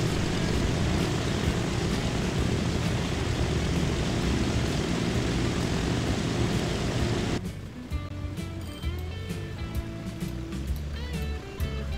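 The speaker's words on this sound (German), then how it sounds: "Da hat er eiskalt das Flugzeug überholt." An airplane flies in the Transport Fever game, a loud, steady engine drone filling the first seven seconds before cutting to a quieter in-game ambience with faint mechanical tones.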